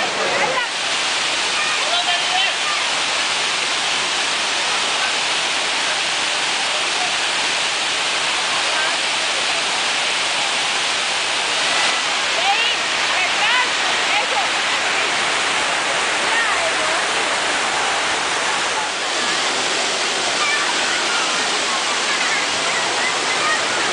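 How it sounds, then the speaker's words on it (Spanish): A waterfall at the river intake bathing spot in Villeta, Colombia, gives a loud, steady roar of falling water with a broad hiss that stays constant throughout. "Este es un balneario que se hizo con esta caída de agua."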